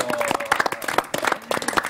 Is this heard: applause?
yes